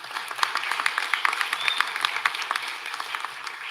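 A crowd claps for awardees at a graduation and awards ceremony, a steady round of moderately loud applause with distinct individual claps, no one speaking.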